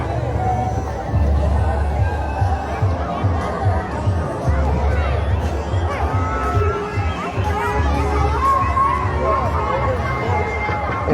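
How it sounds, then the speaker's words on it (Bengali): At Huchuk Danga in Durgapur on New Year's Day, a large outdoor picnic crowd fills the air with continuous babble, children shouting and general hubbub, dense and close with voices talking throughout. "পিকনিকের ভিড় দেখুন শুধু আজকে।"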